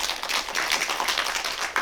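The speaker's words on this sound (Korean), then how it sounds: "좋은 질문 해주신 선생님께 큰 박수 한번 부탁드릴까요?" Audience members at a small independent film festival Q&A give a steady, dense round of applause, a continuous crackle of many hands at moderate loudness that lasts throughout.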